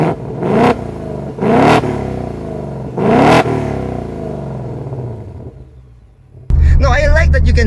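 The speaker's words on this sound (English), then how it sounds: "you can have that glorious exhaust sound even when you're just driving in normal" A Ford Mustang GT V8 exhaust in sport mode blips three sharp revs that each fall away into a burbling idle, followed by someone talking over it.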